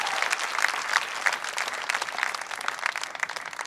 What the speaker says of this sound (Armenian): մի հատ ծափ հավեսով Անուշիկին